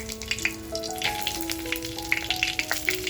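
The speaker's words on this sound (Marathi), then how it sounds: "त्याच्यानंतर बघा जिरं टाकतेय. छान असं तडपून द्यायचे आपल्याला." Cumin seeds crackle in hot oil in a clay pot after whole spices for dhaba-style mutton kheema, with close, bright spitting pops over a soft sizzle and some clinking tones.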